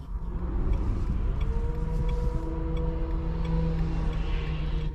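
Cabin of a Renault Twingo SCe 65 hp with manual transmission, its engine droning steadily alongside continuous road and tyre noise, a low even hum with a faint higher whine holding for the whole stretch.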